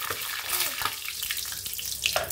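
Poa pitha batter fries in very hot oil, a dense, steady bubbling sizzle close by with small crackling pops throughout.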